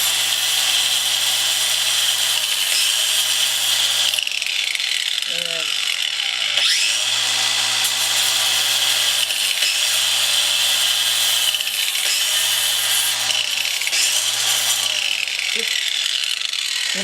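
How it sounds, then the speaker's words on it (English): An angle grinder shaves rough edges off a piece of tile with a loud, continuous high whine that rises and dips as it bears on the edge, close and steady throughout. "you can use your angle grinder to just shave off some of the roughness"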